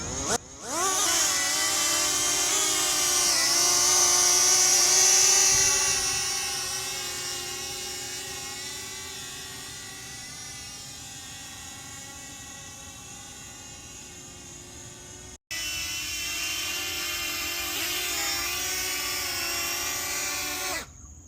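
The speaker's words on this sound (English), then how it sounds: "how do I fly this DJI flip drone?" A DJI Flip drone lifts off and flies with a loud, close, high-pitched propeller whine that surges at takeoff, then settles into a steady buzzing hover, briefly cutting out before resuming.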